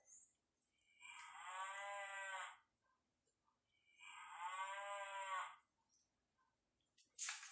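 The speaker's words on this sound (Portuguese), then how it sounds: "Vamos ver o que a vaca disse" A cow gives two long, drawn-out moos, each lasting well over a second, separated by a pause. They are fairly quiet and heard alone, with a short click at the end.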